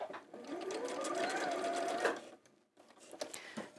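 Sewing machine stitching elastic, a close steady whirring run for about two seconds that stops, then a few softer short bursts and clicks.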